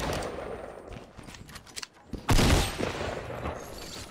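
Gunfire in Fortnite Battle Royale: scattered, distant shots and short bursts early on, then a loud, close volley of rapid automatic fire that slowly tapers off.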